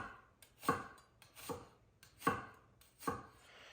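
Four evenly spaced knife strokes chop through a small onion on a cutting board, each a crisp, close thunk with a short scrape, separated by brief quiet gaps.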